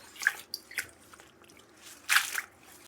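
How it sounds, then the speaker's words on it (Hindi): Soaked bajra millet being washed by hand under a running tap: wet squelching and splashing in a few irregular bursts, the loudest near the end, with quieter dripping between them and no voices. "इस तरह से नल के नीचे रख के इस तरह से पूरा ऊपर नीचे करके मैं बहुत पानी से धो के बहुत फेंकती हूँ"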